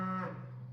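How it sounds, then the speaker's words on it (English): A single low, drawn-out cow moo from a farm, close and fairly loud, fading out toward the end. "So keep the cow noise outside."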